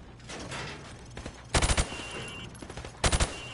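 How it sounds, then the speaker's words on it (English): Video game gunfire through thin plywood at targets: two tight bursts of several loud, close shots each, separated by a short gap with only low background rumble. "I want you to shoot the targets through the wood."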